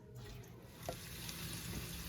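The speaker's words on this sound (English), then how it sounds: "my sweet potatoes are sizzling nicely" Sweet potatoes sizzle on a sheet pan as part of a healthy sheet pan dinner, a steady close hiss and crackle with no voices over it.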